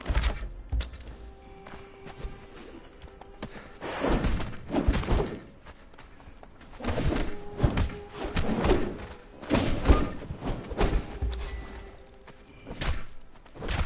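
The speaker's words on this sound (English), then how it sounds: "Nice little butt punch with the little stone club." Repeated heavy thuds and crunching impacts from a stone club striking a Cuda creature in a PS4 game, several hits landing in bursts over a steady game backdrop.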